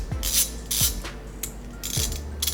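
Ratchet turning the front sprocket bolts on a Honda CRF250L, several short, close clicking bursts spaced apart, each with a sliding ratcheting rattle, with brief quiet gaps between strokes.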